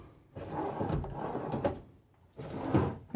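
A soft-close drawer in a 2023 Newmar Essex 4521 motorhome slides shut in two muffled, cushioned passes, the second after a short pause, heard close up with no talking.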